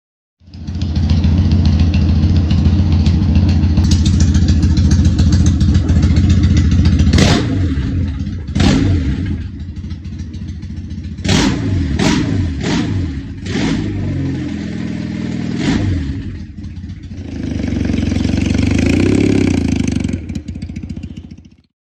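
A custom Dream T100 motorcycle engine idles roughly with a loud, steady throb, broken by several sharp clattering blips and revs before settling back to a rumbling idle, close up with no voices.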